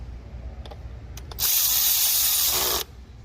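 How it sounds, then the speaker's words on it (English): A power tool tightens bolts in a crisscross pattern during a spark plug replacement: a few faint clicks, then one loud, close, steady whirring burst of about a second and a half that stops abruptly. "we're gonna go inside out in crisscross pattern for the bolt."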